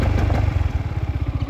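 Yamaha Xmax 250 scooter engine with traction control engaged, running close and loud with a rapid pulsing throb that stutters as the revs are cut; no talking.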